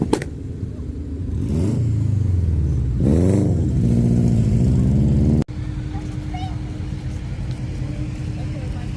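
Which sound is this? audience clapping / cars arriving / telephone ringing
cars arriving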